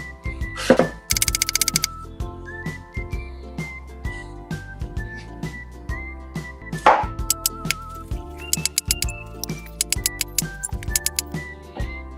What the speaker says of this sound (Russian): Лук четверть кольца. Нарежем его тонко.